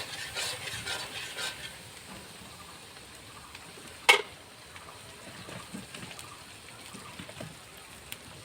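Fish dopiaza made with silvercup fish being stirred as it fries on a wood-burning stove, a soft steady sizzle and scraping with one sharp clank partway through, no talking.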